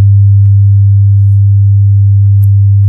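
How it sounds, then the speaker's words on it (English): A steady 100 hertz sine tone from a signal generator hums loud and unbroken, a pure low pitch with nothing else around it. "we're producing a 100 hertz tone"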